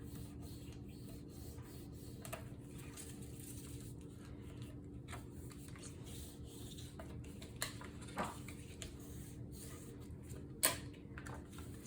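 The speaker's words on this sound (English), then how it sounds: "And then I'm going to burnish this down." Paper is burnished down onto a page of a mini album, a faint, soft rubbing and scraping with a few small taps scattered through it, quiet and close.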